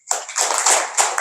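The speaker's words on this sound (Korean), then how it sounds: "박수 한번 쳐주십시오" Listeners at a Korean Buddhist Sunday dharma talk break into close, loud applause that swells and dips in several waves of clapping over about a second.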